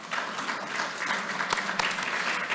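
Audience applause at a book launch event in a university library foyer, steady dense clapping from a crowd, fairly close and continuous throughout.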